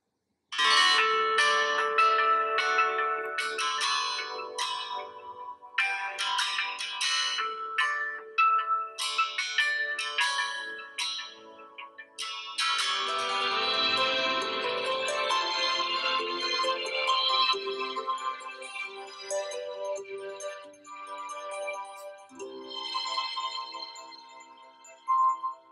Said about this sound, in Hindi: अब प्ले करते हैं एक रिंगटोन को